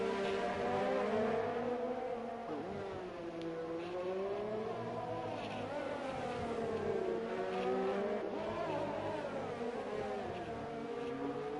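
Formula 1 cars in F1 2020 brake hard into a corner at the Russian Grand Prix, engine notes dropping and sweeping in pitch, steady and fairly loud with no talk.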